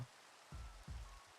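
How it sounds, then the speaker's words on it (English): Rain falling in the Minecraft video game, heard as soft bursts of low patter in two short swells over a quiet background. "it's raining."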